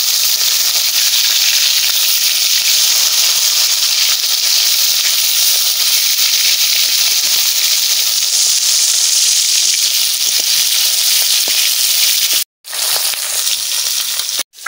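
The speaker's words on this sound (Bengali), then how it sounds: "নাড়াই দিচ্ছি, একবার পাল্টি করে দিচ্ছি।" Snakehead fish sizzles and hisses in hot oil in a pan, a loud, steady close crackle that runs unbroken and cuts out briefly near the end as the pieces are turned, with no talk.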